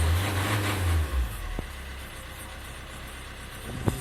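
A Lancia Ypsilon engine runs close by, a heavier low rumble for the first second that then settles into a steadier, quieter idle, with a couple of faint clicks.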